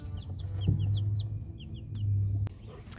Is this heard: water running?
no